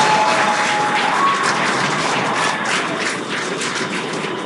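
Applause and cheering from a crowd in a mission control room marking the first commercial spacewalk, from the SpaceX Dragon Resilience capsule during Polaris Dawn: a loud, continuous roar of clapping that stays steady throughout and slowly fades.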